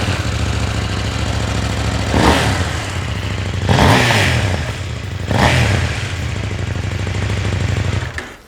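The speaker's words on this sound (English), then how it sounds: "799cc, effectively 800cc parallel twin engine with an uneven firing order" KTM 799cc parallel twin motorcycle engine with an uneven firing order, idling gruffly and loudly up close, then revved sharply three times in rising and falling bursts before settling back to a throbbing idle and cutting off.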